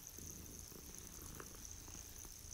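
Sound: cat purring, from the video game Hogwarts Legacy

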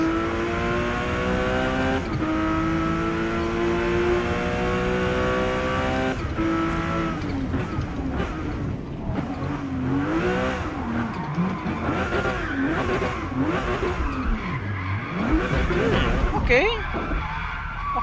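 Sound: car drifting and revving in video game Forza Motorsport

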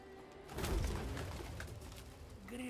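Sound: birds cooing in The Witcher 3 Hearts of Stone video game

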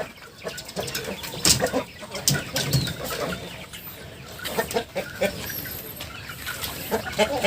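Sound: chicks and chickens clucking

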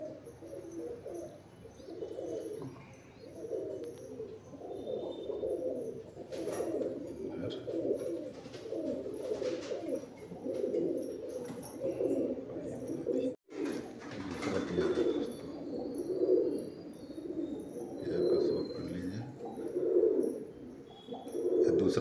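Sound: Madrasi pigeons cooing

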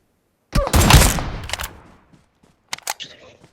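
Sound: gunfire in the video game PUBG Mobile

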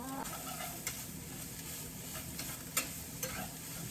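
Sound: mushrooms stir-frying in a pan

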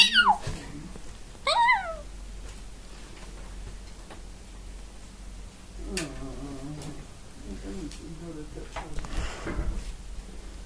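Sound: cat meowing

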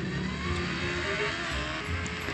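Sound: concrete mixer truck driving in a video game

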